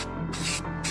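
Spray can of Rust-Oleum truck bed coating, two short close hissing bursts separated by a brief pause.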